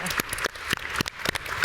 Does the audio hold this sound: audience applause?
yes